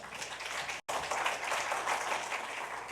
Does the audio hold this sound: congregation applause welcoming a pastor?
yes